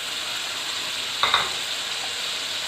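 Ginger garlic paste and tomato puree sizzle in hot oil with onions for a mushroom and beef keema, a steady soft hiss with a brief clatter of stirring near the middle.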